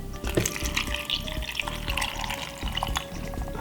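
Water pours into a glass of honey, a continuous splashing trickle with small drips and bubbling, fairly quiet and close, with no one talking.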